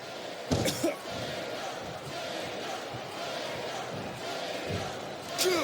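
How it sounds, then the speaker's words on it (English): Arena crowd noise in the WWE SmackDown vs Raw 2008 video game, at a Hell in a Cell match of Kane vs Undertaker: a steady roar of cheering with a few sharp slams over it. "I cannot remember the last time I've seen a crowd this pumped up."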